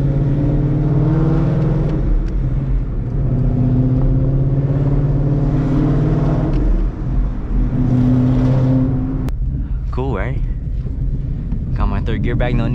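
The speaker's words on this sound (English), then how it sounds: "The MT82s are notorious for whining." A Ford MT82 manual gearbox whines steadily beneath a droning engine and road rumble while driving, heard from inside the car, with people talking briefly near the end.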